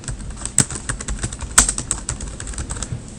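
Someone types a folder name on a computer keyboard, with an irregular, close run of key clicks and a few sharper, louder strikes.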